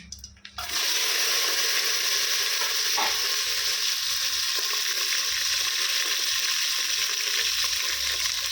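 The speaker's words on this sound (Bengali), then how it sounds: "তেলটা গরম হয়ে গেছে। এবার আমি মাছগুলো ওই তেলের মধ্যে দিয়ে দেবো।" King prawns dropped into hot oil with black cumin seeds, a sudden loud, steady hiss and crackle of frying that holds continuously close by.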